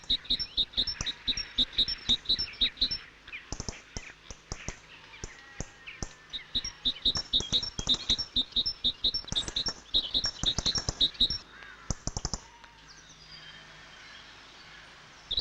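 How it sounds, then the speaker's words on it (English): A great tit sings in autumn with repeated bright two-note phrases in rhythmic bursts, fairly close and clear over a quiet background, with some ticking calls mixed in before the song fades out. "Autumn brings some renewed song from the great tit."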